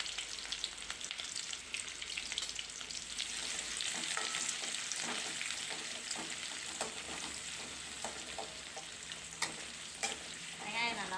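A medium onion frying in oil after mustard seeds have popped, making a continuous soft sizzle with light stirring scrapes and small crackles over about eleven seconds.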